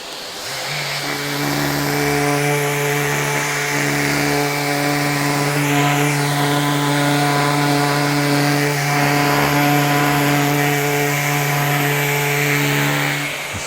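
An electric power sander with 500-grit paper works over wood and resin, giving a steady, loud motor whine that holds for about thirteen seconds without a break or voices.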